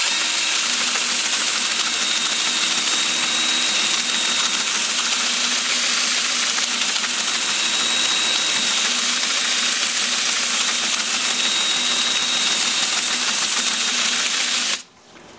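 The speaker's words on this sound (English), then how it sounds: "Now with this one, I'm gonna spin the piece. Lathe is spinning at about 400 RPM." A wood lathe spins at about 400 RPM while a turned piece is sanded with 150-grit paper, giving a steady, even hiss and hum that holds for about fifteen seconds before cutting off.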